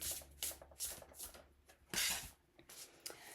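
Tarot cards being shuffled by hand, a run of dry, papery riffling bursts in a quick irregular rhythm, close and fairly quiet, with no voice.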